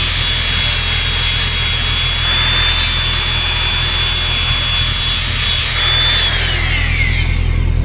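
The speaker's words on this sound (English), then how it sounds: "just grind them until they're sharp" Mulcher teeth being sharpened on a grinder, a steady loud rasping whine that runs without a break and shifts in pitch near the end, with no talk over it.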